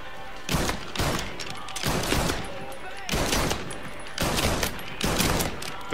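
Loud bursts of automatic gunfire in the video game Mafia III, several sustained volleys separated by brief pauses, close and dominant throughout.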